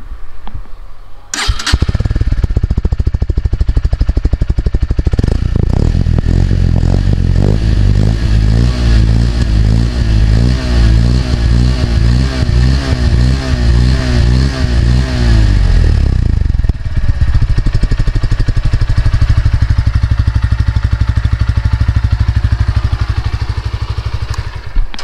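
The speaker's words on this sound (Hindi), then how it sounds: "बाकी अब आपको इसका जो एग्जॉस्ट नोट है वो सुनाता हूँ।" A 2023 Bajaj Pulsar P150 motorcycle starts up, then idles and revs repeatedly in a steady throbbing rhythm, loud and close, before settling back to a rumbling idle with no talking.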